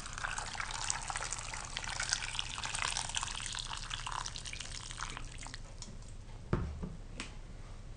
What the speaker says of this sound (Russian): Заливаем кипятком.